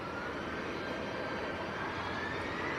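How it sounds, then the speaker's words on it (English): An EasyJet jet airliner at Manchester Airport begins its takeoff roll toward Mahón, with a constant, distant jet engine roar and a faint high whine running steadily through the sound. "EasyJet to Mahom is just about to roll."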